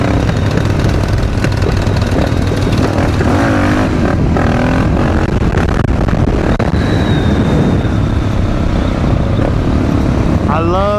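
Supermoto motorcycle engine revving while riding downhill with friends, loud continuous engine roar with rising and falling pitch sweeps, mixed with wind buffeting and some talk.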